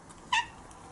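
A pet cat gives a single short, high meow in a quiet garage, brief and fairly clear against a low background hush.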